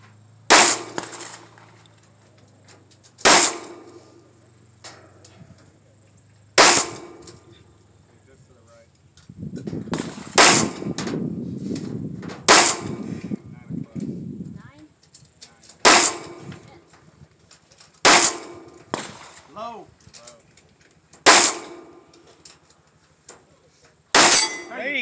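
Shots ring out at target shooting, loud sharp cracks spaced a few seconds apart, about nine in all. A muffled rumble of movement or voices fills a stretch near the middle.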